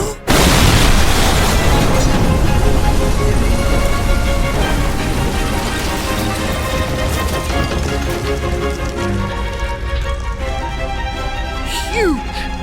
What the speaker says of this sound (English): huge, deafening explosion. You are knocked What? off of your feet.